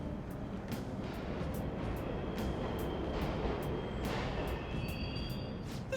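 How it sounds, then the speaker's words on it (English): Subway trains run in the Persona 5 Royal video game, heard as a continuous low mechanical rumble with faint, regularly spaced clicks above it, steady and moderately distant throughout. "The trains are totally running!"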